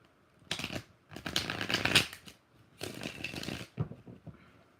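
Tarot cards are riffled and shuffled by hand in three quick bursts of dry, crisp fluttering, close and fairly quiet, with short pauses between and no talking.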